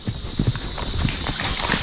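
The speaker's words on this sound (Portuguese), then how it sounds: "nem deu pra filmar o gado passando" Repeated hoof clops and splashy footfalls of cattle crossing a shallow, muddy creek, an irregular plodding rhythm over a steady rushing wash.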